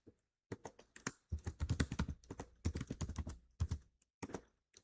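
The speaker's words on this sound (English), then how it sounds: "So now you can go to cd and type in that path." Fingers type a folder path at a computer keyboard in quick clustered bursts of close, crisp keystrokes with short gaps between them, and nobody speaks over the clicking.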